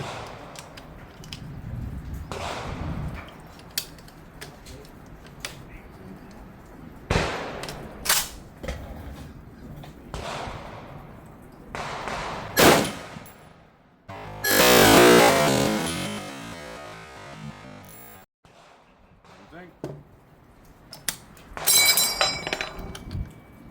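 A 1943 Springfield Armory M1 Garand cycles its action while feeding .30-06 rounds, giving sharp, close metallic clacks and clinks spaced irregularly, with one longer rattling burst in the middle and no talk.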